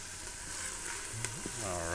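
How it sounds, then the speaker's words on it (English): Yellow bell peppers sizzle steadily as they sauté in an Instant Pot, with a soft scraping stir partway through and the frying hiss continuing throughout. "Scoop those around, let those start to get sauteed up good."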